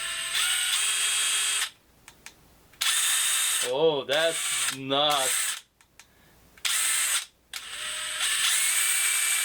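Loud high-pitched whirring of a DeWalt 1/2 in brushless power driver running in bursts, stopping and starting several times, with a short exclamation in between.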